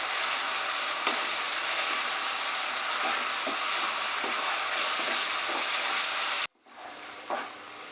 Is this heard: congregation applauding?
no